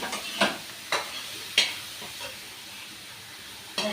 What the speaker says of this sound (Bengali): তার শাক ভাজাটা হয়ে গেছে বন্ধুরা, গ্যাসটা বন্ধ করে দিলাম, নামিয়ে নিচ্ছি এখন শাক ভাজাটা।